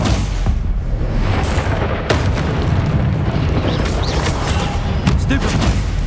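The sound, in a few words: spell explosions and blasts cast in Hogwarts Legacy video game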